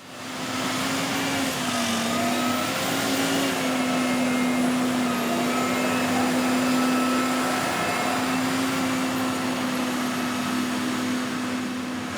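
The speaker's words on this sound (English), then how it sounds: "Here we see a tamper and ballast regulator working in tandem." A railway track tamper and ballast regulator working together, producing a steady loud mechanical drone with a sustained engine hum throughout.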